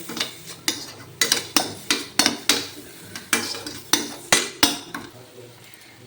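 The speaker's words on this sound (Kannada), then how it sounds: "ಸೊ ಚೆನ್ನಾಗಿ ಇದನ್ನು ಫ್ರೈ ಮಾಡಿ" A spatula scrapes and knocks rhythmically against a pan while a spinach and mushroom mix fries, about a dozen sharp metallic strokes over a faint sizzle.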